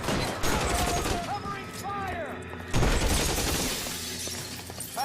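A Thompson submachine gun fires in L.A. Noire in rapid bursts of shots mixed with shattering glass and debris. Dense, loud crackling runs throughout, and voices can be heard under the gunfire.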